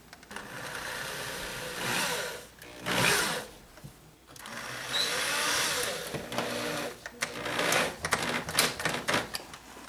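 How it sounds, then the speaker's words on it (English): Drywall screws being driven into drywall board around pipes with a power driver, giving several whirring bursts of varying length with brief gaps between them, close and moderately loud. "I added the drywall screws, and everything seems to be holding really well."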